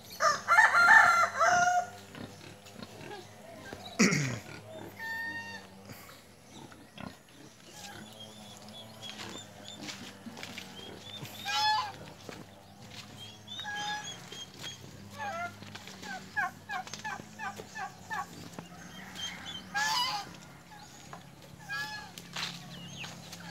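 Native chickens cluck and crow in a yard, with a loud burst of calls near the start and then scattered clucks and short cries of varying loudness over a quieter background.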